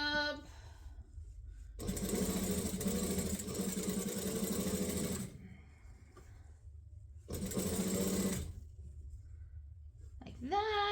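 Sewing machine stitching an apron, including a back stitch, heard in two whirring runs separated by a quiet gap, with a brief start of another run at the end.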